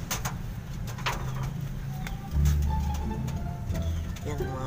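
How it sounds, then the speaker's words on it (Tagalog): Pigeons coo softly in low, rolling calls close by, under steady background hiss, with a few faint clicks and a slightly louder swell of cooing midway. "Yan, mga kalapatids."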